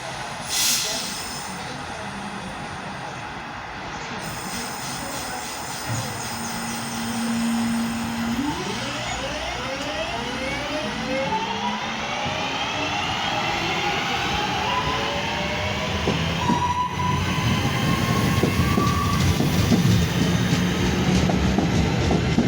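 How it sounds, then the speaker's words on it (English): A West Midlands Railway class 323 electric multiple unit pulls away from a station platform, its traction motors whining upward in rising tones while wheels rumble and squeal, close and sustained, as the train gathers speed. "323213 as it departs with the 1233 West Midlands Railway service from Four Oaks to Redditch"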